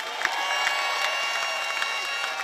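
A large crowd at a political party congress applauds and cheers, with dense clapping and a few shouts heard together at a distance, steady throughout.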